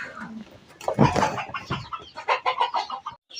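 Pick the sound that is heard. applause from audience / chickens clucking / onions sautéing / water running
chickens clucking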